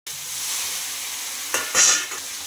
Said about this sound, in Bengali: জিরে সামান্য একটু জল দিয়ে মশলাটা ভালোভাবে ভেজে নেবে